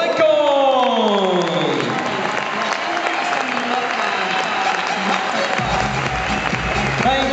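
A tennis exhibition audience applauds for a guest being handed a gift at an evening event. Dense, steady clapping fills the whole stretch, with voices and tonal sounds carrying over it.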